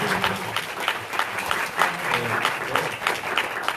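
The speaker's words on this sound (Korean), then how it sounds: "와우 선생님께 박수 한번 내주시겠어요?" Full, steady applause from an audience at a 2018 refugee film festival screening, dense clapping sustained for several seconds with no talking.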